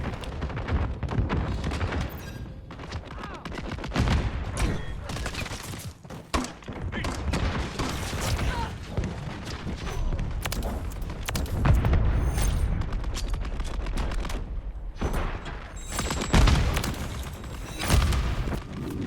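Gunfire from the video game Modern Warfare 2 with submachine guns, dense continuous shooting and booming impacts throughout, loud and busy with scattered thuds, a voice occasionally mixed in.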